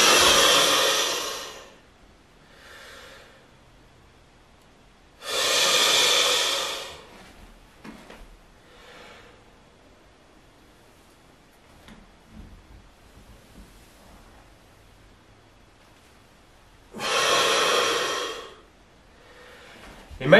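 A person breathes deeply while performing overhead squats, long airy inhales and exhales in three loud bursts spaced several seconds apart, with quieter breaths and faint movement between them.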